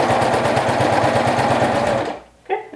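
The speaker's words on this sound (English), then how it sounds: "I've ended my top stitching where that V is in the back." A sewing machine runs steadily while top stitching a waistband, a fast even mechanical whir for about two seconds before stopping, then a short rustle of fabric.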